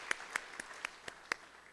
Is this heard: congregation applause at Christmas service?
yes